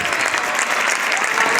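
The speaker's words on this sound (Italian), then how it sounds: "Gli applausi sono sempre un buon incoraggiamento per gli operatori." Loud, sustained applause from a crowd watching a firefighters' ladder drill in Cagliari, a thick, unbroken wash of clapping from start to end.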